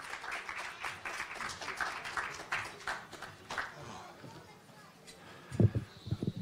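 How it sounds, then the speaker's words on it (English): An audience applauds at the opening ceremony for new play parks, clapping that starts strong and thins out toward the end, followed by a voice speaking. "Give him a warm round of applause"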